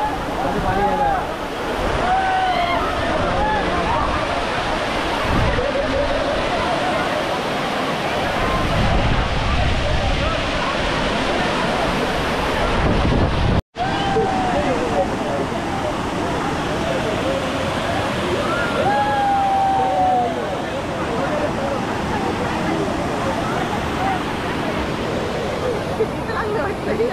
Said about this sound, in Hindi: काफी पानी आ रहा है।